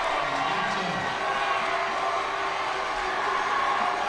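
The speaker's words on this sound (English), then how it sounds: "The crowd is getting wild here." Loud, sustained roar of a high school football game crowd, cheering and whooping continuously throughout.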